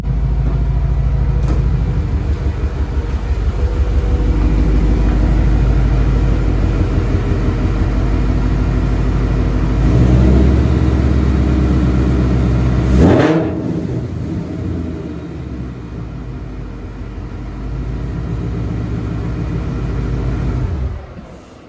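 A 2018 Ford Mustang with a built 10R80 transmission rumbles loudly up close as it pulls into a garage, a steady low idle swelling with a brief rev before settling into a lower, quieter idle.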